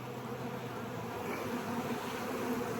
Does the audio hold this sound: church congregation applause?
no